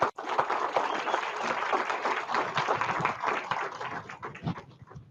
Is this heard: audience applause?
yes